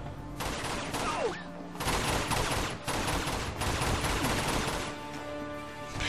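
Gunfire in the PS3 game Uncharted 2: Among Thieves, loud sustained bursts of automatic fire and shots crackling almost continuously, with brief gaps between volleys.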